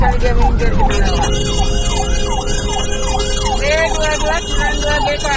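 An ambulance siren wails in steady repeating sweeps through street traffic in Ciputat, loud and close, with engine rumble and a faint voice beneath.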